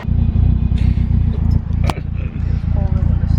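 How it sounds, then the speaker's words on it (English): Car with a Nissan SR20DET engine idling after starting, a loud steady rumbling throb close by with a rhythmic pulse, someone talking over it and a brief clink partway through. "At least my car starts when it's cold."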